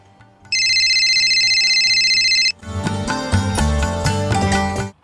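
A phone's electronic ringtone rings steadily for about two seconds over quiet background music, then cuts off as the music grows louder.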